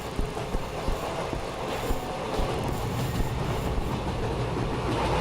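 A train rumbles along in an Indian horror train game, a steady dense roar of wheels and rattling carriages with faint rhythmic clicks, continuous and fairly close throughout.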